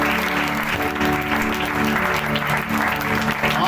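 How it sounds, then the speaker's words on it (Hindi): A church congregation claps loudly and continuously during a Sunday sermon, dense sustained applause blended with background music and voices. "ताली देंगे जोर से।"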